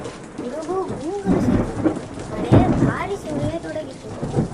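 A thunderstorm sound effect with steady heavy rain and rolling thunder booms fills the scene, mixed with voices and other sounds from a children's story.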